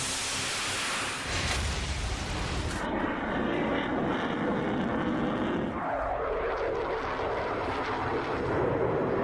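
Aircraft engine roar sweeps overhead, a loud sustained rushing drone that shifts in tone midway as the plane passes, with no voices.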